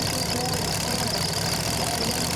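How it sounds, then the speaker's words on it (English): A Ford Hemi engine in a competition mud truck idles steadily, its dense low rumble and broadband roar holding even and loud throughout with no pauses. "Running a Ford Hemi engine."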